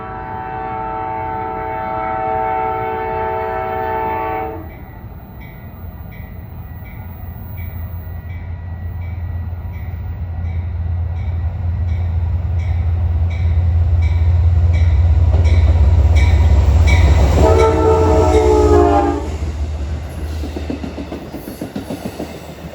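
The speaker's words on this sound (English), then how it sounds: "this should be Amtrak 237 from New York to Albany" Amtrak 237, a New York to Albany-Rensselaer passenger train, passes close by with a loud, rising rumble and clatter of cars, opening with a sustained horn blast and sounding another horn call near the end.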